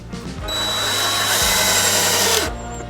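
Power drill whirring in two bursts as it drives deck screws into the lumber of a raised garden bed, loud and close, motor pitch rising and falling as each screw seats.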